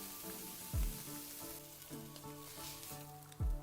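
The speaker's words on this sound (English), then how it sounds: "put steak on very hot pan with some vegetable oil and sear it" Steak searing in a very hot pan with vegetable oil, a loud, steady sizzle close by, under soft music with occasional deep thumps.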